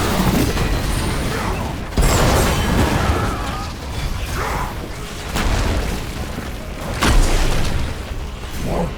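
Explosions in the Heroes of the Storm video game: several heavy booms and blasts recur over game sounds and effects, loud and close, with brief voice lines.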